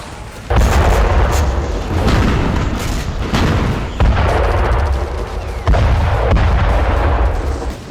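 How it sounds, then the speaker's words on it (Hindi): Rapid heavy booms and gunfire during an attack in the West Bank, loud and dense, with sharp cracks over a continuous rumbling roar and no speech. "इस दौरान कई धमाके और गोलीबारी की आवाज सुनाई देती है"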